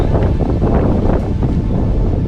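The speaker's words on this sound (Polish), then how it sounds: "Zaczyna już wiać." Wind gusts buffet the microphone in a loud, continuous low roar with brief swells, no voices, on a walk to Goðafoss waterfall in Iceland.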